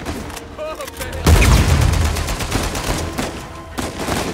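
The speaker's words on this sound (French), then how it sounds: "Je tire sur mon frère." Gunfire in Uncharted 4, a loud burst of rapid shots and booms that starts suddenly and keeps rattling, with a voice talking over the shooting.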